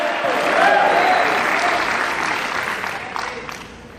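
A standing church congregation applauds in praise, producing a sustained wash of clapping that swells early and slowly tapers off toward the end.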